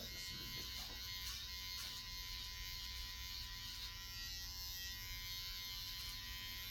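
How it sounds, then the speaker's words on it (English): Electric razor trimming hair during a haircut, a steady close buzzing hum that runs unbroken throughout with no talking. "I come back to the razor on that."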